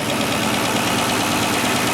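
A 4.6 liter three-valve modular V8 in a 2010 Ford Explorer Eddie Bauer runs steadily, a loud, even, close engine drone with no talking.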